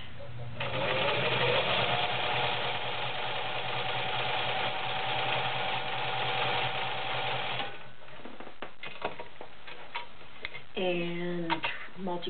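A white Husky 1510 convertible sewing machine running a blind stitch, its steady mechanical whir and ticking continuous for about eight seconds before stopping, after which a voice speaks briefly.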